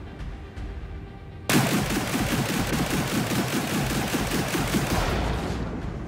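The turret guns of an Aegis Hammerhead ship in a space video game open fire abruptly in a loud, rapid burst of repeated shots that continues without a pause, preceded by a low engine hum.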